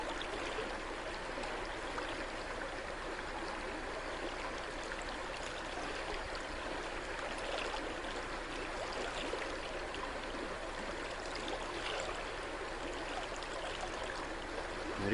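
Steady flowing water from a river stream near Sedona, a constant close broadband rushing and trickling that holds even throughout with no voices.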